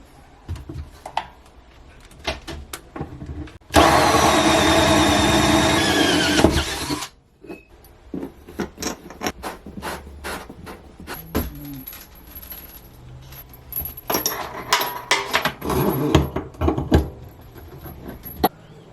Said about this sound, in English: I want to drill some holes in the countertop for the faucets